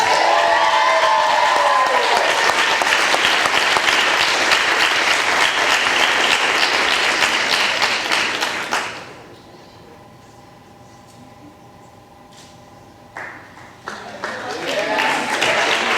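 Audience at a 2016 women's soccer awards reception applauds honorees; loud sustained clapping for about nine seconds fades to near quiet, then applause picks back up toward the end.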